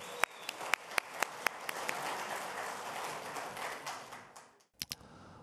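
Several sharp, separate claps quickly swell into fuller applause welcoming a speaker at a Democratic Party campaign event in Gwangju, which fades out and is followed by a couple of isolated claps.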